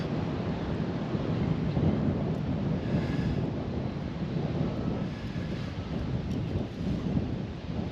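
Wind gusting across open water during kayak fishing for pike, bass and crappie, a loud low rumbling buffet on the microphone that swells and eases in waves, with no talk.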